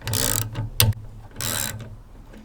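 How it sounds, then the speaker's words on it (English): Bolts being backed out of the air cleaner housing on a lawnmower, giving two bursts of rapid ratchet clicking with a brief metallic clunk between them, close and moderately loud with no talking. "Let's remove these bolts holding the air cleaner"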